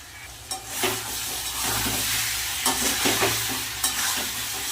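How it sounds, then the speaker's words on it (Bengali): Ground cumin, turmeric, chili powder and salt frying in a pan, a dense close sizzle broken by several sharp stirring scrapes, with no voices. "সব মশলাগুলো এবার একসাথে ভালো করে কষিয়ে নেবো"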